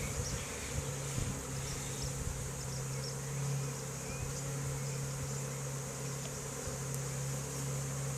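A caught swarm of honeybees buzzes inside a cedar hive with an insulated roof, a dense continuous drone with some individual bees passing close, faint and steady with no talk.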